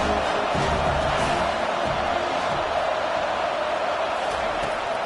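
A stadium crowd in the College Football 25 video game roars with a steady, dense wash of cheering that holds loud and unbroken throughout, with no clear voices standing out.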